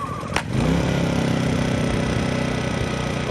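A Harbor Freight Predator 1400 generator catches on a pull of the starter cord: a brief pull rasp, then the small engine fires and settles into a steady, loud, close putter with no talk.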